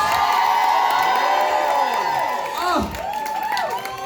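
A crowd cheers, whoops and applauds at a drag awards show in Glasgow, loud and continuous with shouting voices rising over steady clapping throughout.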